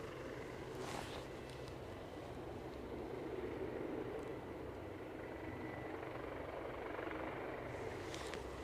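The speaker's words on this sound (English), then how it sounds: "there's a helicopter behind the tower that's running" A helicopter runs behind a tower at Aberdeen airport, a steady low engine drone with a rhythmic rotor thrum throughout, fairly distant and constant, with no talking.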